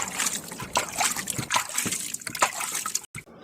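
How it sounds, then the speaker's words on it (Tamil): Water is poured onto coconut coir waste to break it up for seedling trays. It gives irregular close splashing and trickling for about three seconds, then stops abruptly. "இப்போது தேங்காய் நார் கழிவு வந்து பார்த்திங்கனாக்கா நம்ம தண்ணி ஊற்றி அதை உடச்சி எடுக்கிறோம்"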